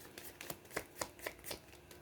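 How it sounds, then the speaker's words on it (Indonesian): Tarot cards are drawn and handled, with a quick series of soft, crisp card snaps and slides at an even pace, close and quiet. "Saya ambil 6 kartu ya."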